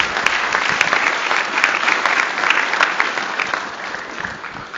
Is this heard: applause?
yes